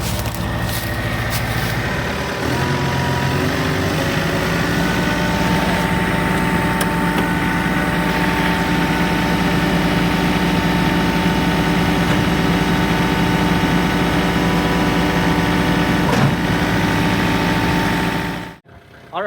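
The engine of a side-by-side UTV idles in neutral with its front wheels lifted off the ground, a loud, steady drone that holds for nearly twenty seconds before cutting off abruptly at the end.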